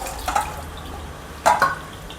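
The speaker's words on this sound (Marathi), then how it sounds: "पोहे चांगले धुवून झालेले आहेत आता मी पाणी वेळून घेते" Washed poha being drained of its rinse water, giving two brief splashy bursts of dripping and trickling water at close range with quieter gaps between, no voices.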